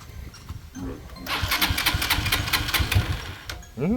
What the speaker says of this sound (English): So you can try start the bike now.